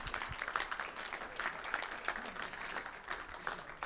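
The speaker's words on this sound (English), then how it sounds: "could all of you please give a round of applause to yourselves for showing up" An audience at a student campus forum applauds at moderate distance, a steady patter of many hands with a few sharper claps near the start, fairly soft overall.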